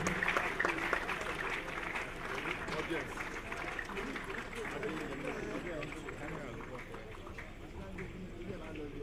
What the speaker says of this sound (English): Another beautiful round of applause for Professor Abuaba.